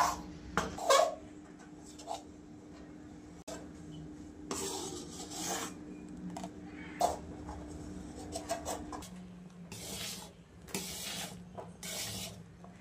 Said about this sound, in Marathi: सतत हलवत राहावं लागते, सतत हलवावं लागतं, नाहीतर